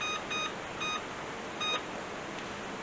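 Oven timer beeping in a home kitchen, four short electronic beeps in an uneven rhythm, clear and fairly close over steady low background hiss.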